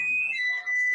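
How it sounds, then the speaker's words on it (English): A loud, steady high-pitched alarm tone sounds inside a house, holding one piercing pitch alone with a slight dip near the end. "It sounded like an alarm."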